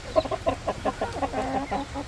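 Two laying hens cluck close by during an egg harvest, giving a quick, rhythmic run of short throaty clucks with no talk.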